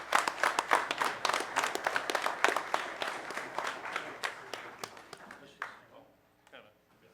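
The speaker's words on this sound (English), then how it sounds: "Let's give one more round of applause" Clapping from a small group at a Putnam County board of commissioners meeting, a dense run of hand claps lasting several seconds before thinning out and stopping, with a few scattered voices underneath.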